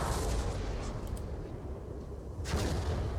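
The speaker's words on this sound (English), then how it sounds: "Counter fire from back there." Cannon and musket fire trade back and forth across a Napoleonic battlefield at Eylau in a strategy game, a dense continuous rumble of distant booms with a sharper burst of shots near the end.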